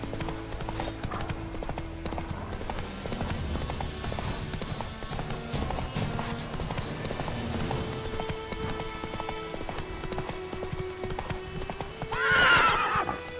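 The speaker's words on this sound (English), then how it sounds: "Run, Roach." Horse hooves clip-clop at a galloping run in The Witcher 3, steady and prominent over a game soundtrack, with a loud neigh rising near the end.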